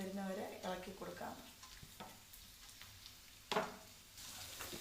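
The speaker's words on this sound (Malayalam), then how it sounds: "അതിലേക്ക് നമുക്ക് സവോളയും പച്ചമുളക്, വെളുത്തുള്ളി, കറിവേപ്പില ഇതെല്ലാം കൂടെ ഇടാം." Onions, green chilies, garlic and curry leaves sizzle and crackle in hot oil in a Kerala kitchen, a steady close frying hiss with occasional stirring scrapes and one sharp clatter of a utensil near the middle.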